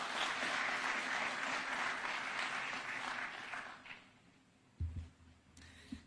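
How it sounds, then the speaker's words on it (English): An audience at a formal Nairobi event applauds to welcome a speaker, a dense burst of clapping that fades after a few seconds, followed by a few thumps and quiet room noise. "Let's welcome her with a clap."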